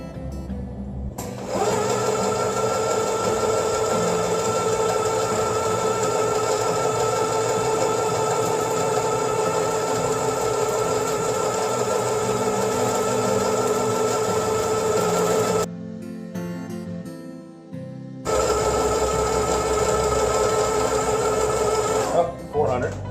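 Fishing line, 60 lb Jerry Brown hollow core, being spooled onto an Avet LX Raptor reel by a machine: a steady, loud mechanical whir that runs continuously, cuts out briefly near the end, then resumes, with some talk over it.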